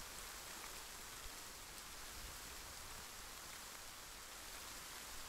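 Steady rain falls in the survival video game The Forest, a soft even hiss of drops on surfaces that continues without break at low, consistent volume and with no talk over it.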